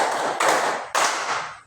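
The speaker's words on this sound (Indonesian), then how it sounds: "Tepuk 3." A classroom of children claps a rhythmic pattern of three in unison, two sharp group claps landing close together and loud, each followed by a brief ringing decay in the room.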